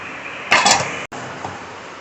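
A metal lid set down on a cooking pot of chicken biryani, giving a short bright clatter with a brief ringing tail, followed by near silence and a faint second clink.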